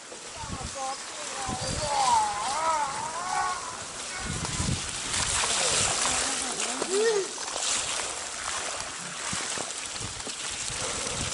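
River water splashes and sloshes around mountain bikes on a wet Christmas Eve group ride near A Coruña, a loud, churning rush with bursts of spray and voices shouting over it.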